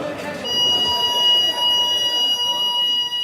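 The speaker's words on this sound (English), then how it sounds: "staff can activate an alarm system to call for help" A prison alarm system sounds with steady high-pitched electronic tones held over a low rumble, loud and continuous for several seconds, with voices in the background.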